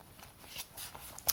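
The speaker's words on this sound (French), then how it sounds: "Alors je vais mélanger les cartes." A deck of oracle cards being shuffled by hand, a short run of soft riffling and papery flicks that ends in one sharper snap, close up and quiet with no talking.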